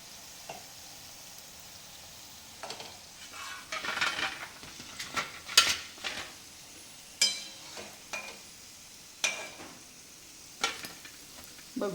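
Large batata vadas in batter fry in a pan of hot oil with a steady soft sizzle, broken by repeated scraping and clinking of a metal spoon or slotted ladle against the pan.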